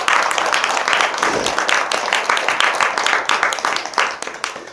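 A temple congregation at a dharma talk marking a Korean Buddhist temple's 60th anniversary breaks into loud, sustained applause, many hands clapping in a dense, even roar that lasts throughout.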